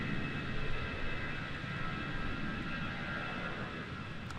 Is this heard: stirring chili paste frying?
no